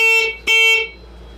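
A scoreboard's substitution buzzer gives two short, loud blasts in quick succession, then fades to a faint hum.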